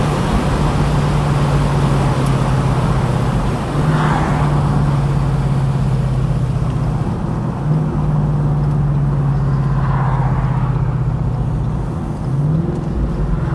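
A 2016 Ford Mustang GT Roush Stage 3 convertible in Race Red cruises with a loud, steady low engine drone and heavy road and wind roar, with slight pitch shifts as it slows.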